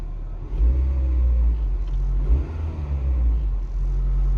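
Steady low rumble of a 1998 Acura Integra engine idling, close and continuous with slight fluctuations, no talk.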